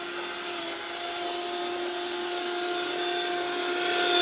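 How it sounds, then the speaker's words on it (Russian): A motorized snow shovel runs steadily outdoors in winter snow, its small engine giving a constant high whine with a tonal hum that swells slightly toward the end. "Лопата с моторчиком."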